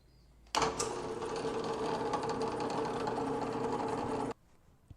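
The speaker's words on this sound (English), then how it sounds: "I'm going to countersink these holes just a little bit" A power drill fitted with a countersink bit whirs steadily into screw holes in a wooden Telecaster Thinline electric guitar body. It starts abruptly and runs loud and close for about four seconds, then cuts off cleanly, with no talk.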